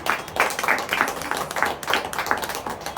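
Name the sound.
audience clapping loudly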